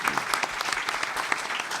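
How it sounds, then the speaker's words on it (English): Brief, dense applause from a seated audience right after a panel talk on household food waste, steady clapping at moderate volume. "Let's give Ashley a round of applause"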